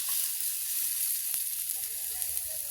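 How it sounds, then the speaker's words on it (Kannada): Spices, with coriander seeds, fry in a pan for a festive holige saaru, giving a steady, close, bright sizzle and hiss that runs alone throughout. "ಅದನ್ನು ಸಹ ಫ್ರೈ ಮಾಡ್ಕೋಬೇಕು"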